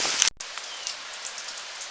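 Steady rain falls during Hurricane Irma in Stuart, Florida, a continuous soft hiss with scattered droplet ticks after a brief cut near the start.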